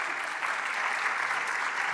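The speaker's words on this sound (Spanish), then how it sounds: "Un aplauso para el doctor Pineda, por favor." Brief burst of steady applause from a surgical congress audience, even and moderately distant clapping throughout.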